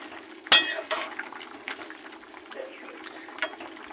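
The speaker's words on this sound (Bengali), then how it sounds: "জলটা কি সুন্দর টক বগিয়ে ফুটছে" A pot of water boils during cooking of shukto, a Bengali vegetable dish, with a soft, continuous bubbling and a few sharper pops. The sound is faint and fairly close, with no voices.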